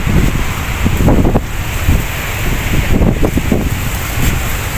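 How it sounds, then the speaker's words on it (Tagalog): Strong wind buffets the microphone in a constant roar, with heavier low gusts swelling and fading; no voices. "Malakas yung hangin."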